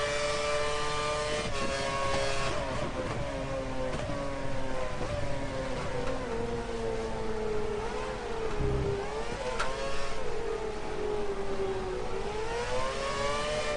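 High-revving Formula 1 engines in the F1 2012 racing game at the Chinese Grand Prix, a loud continuous whine that rises and falls through downshifts into the opening corners, with a brief thump near the middle.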